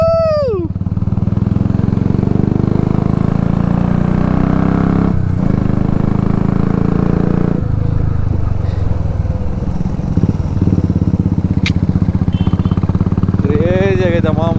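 A motorcycle rides along with a loud, close engine drone, rising and falling as it revs, with brief dips and a few short voice-like sounds near the start and end.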